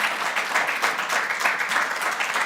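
A crowd at a product preview event applauds, dense continuous clapping from many hands, close and steady throughout the short stretch.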